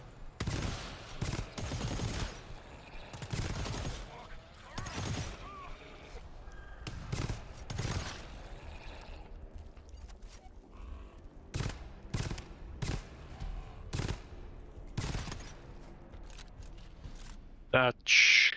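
Gunfire in the co-op shooter GTFO, with rapid volleys of sharp shots spread throughout and bursts clustered in places, punctuated by brief pauses and voices talking between and under the shots.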